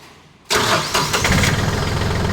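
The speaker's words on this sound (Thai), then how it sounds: "เดี๋ยวผมสตาร์ทให้ดูนะครับ" A Yanmar 393T diesel tractor engine cranks and catches after a brief quiet moment, then settles into a steady, loud idle close by.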